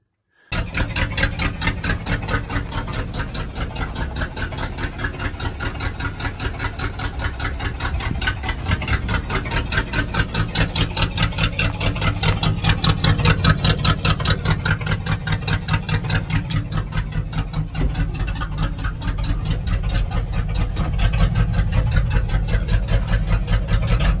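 A Chevrolet-style 283 cubic-inch V8 engine idles steadily and loudly up close, with a rough, throbbing low rumble that runs continuously with no speech.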